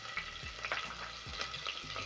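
Chopped onion crackles and sizzles in hot oil with whole spices for a cumin and black pepper pilau, a soft close hiss broken by a few quick stirring scrapes, no talking.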